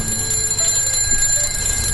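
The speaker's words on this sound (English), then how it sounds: "That was my alarm going off, I do apologize." An alarm clock goes off with a steady, continuous electronic ringing tone that holds unbroken throughout, fairly loud and alone without speech.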